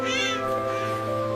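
A cartoon kitten gives a short, clear meow over a steady musical background, a single thin call fading after a moment.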